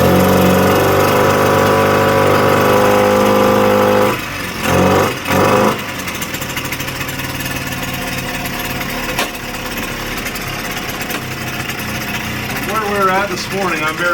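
Small engine of a 1979 Suzuki JR50 minibike running nearby, a loud buzzing idle that dips and sputters briefly, then settles into a steadier, quieter drone as it keeps running.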